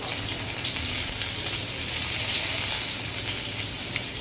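Hilsa fish pieces frying in hot oil with dried red chillies, giving a steady, dense sizzle that holds at an even level throughout, close up with no talking.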